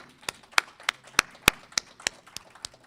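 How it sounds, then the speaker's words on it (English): Hands clapping at a university gateway signing agreement ceremony, heard as about ten sharp, separate claps at a slow, fairly even pace, close and distinct against a quiet room. "So I'm going to give each of you all a round of applause"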